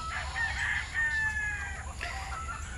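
Roosters crow in a long drawn-out call, then a second cry follows, fairly close over a constant background hiss.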